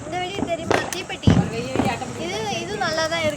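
A matchbox firecracker goes off during Diwali celebrations, giving a sharp, brief pop over chattering voices and background crackle.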